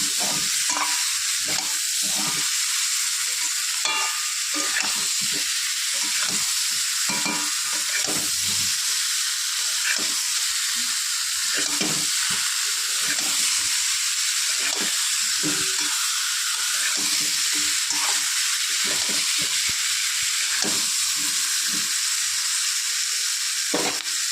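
A pan sizzles while katla fish curry is fried and stirred, a steady hiss under repeated scraping strokes of a spoon against the pan, with no one speaking.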